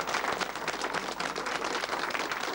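An audience applauds the winners at a Slovak Cuvac dog show in Smrzovce, with dense, continuous clapping held at an even level throughout.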